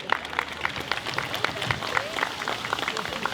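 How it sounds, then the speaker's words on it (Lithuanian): Audience at a school Teacher's Day event breaks into steady applause, dense rapid clapping from many hands at moderate distance, continuing throughout without talk over it. "Dar kada plojimai."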